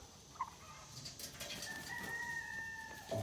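Turkeys wandering on a farm porch near a chicken pen give scattered short calls and gobbling chirps amid outdoor bird noise, moderately close and fairly quiet, with no talk.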